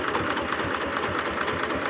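A single-cylinder mini tractor engine fitted with a muffler idles steadily from about five metres away, a continuous even drone with a fast regular thrum, alone and unbroken.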